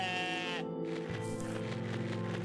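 Bleating from a horned sheep-like animal in the video game OneShot, a brief wavering call at the start over looping game music that continues steadily.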